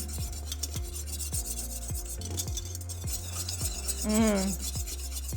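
Thick teriyaki sauce with cornstarch bubbling and simmering in a pan, with steady close scraping and stirring strokes in a regular rhythm and a brief squeak near the end.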